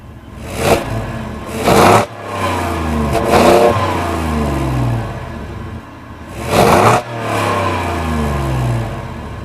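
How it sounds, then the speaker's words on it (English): A 2025 Ford F-150 XL V8 pickup engine revs hard several times in short bursts, its deep rumble idling loudly between the climbing roars. "can't beat the sound of a V8"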